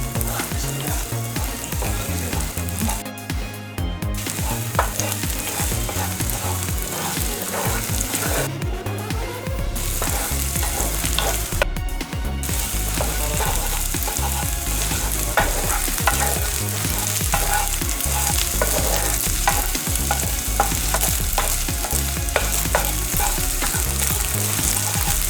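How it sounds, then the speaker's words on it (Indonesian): Eggs are stirred and fried into scrambled eggs in hot oil for special fried noodles, with a loud, continuous close sizzle broken by repeated scraping and stirring strokes throughout. "dan lalu aduk-aduk telur untuk dibuat telur urak-arik."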